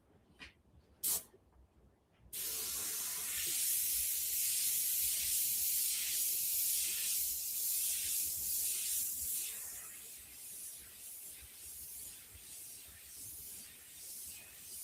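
An airbrush sprays paint in close, steady hissing bursts while shading gold artwork of the Eye of Ra. Two short puffs come first, then a long, continuous hiss that swells and eases in waves.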